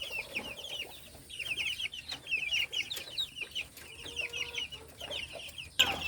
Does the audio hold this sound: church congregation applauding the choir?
no